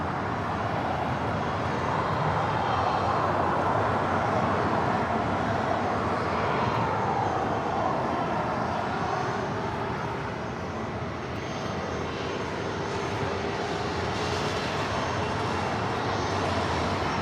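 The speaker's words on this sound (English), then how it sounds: "3080 taking off to Tucson, Arizona on a 737-800." Southwest Airlines Boeing 737-800 jet engines roar steadily during takeoff at LAX, a loud, broad, continuous rumble heard from a distance that swells slightly and holds throughout with no talk.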